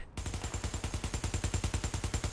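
A UMP-45 submachine gun in The Division fires a steady full-auto stream, roughly ten evenly spaced shots per second for over two seconds, close and punchy with no pauses.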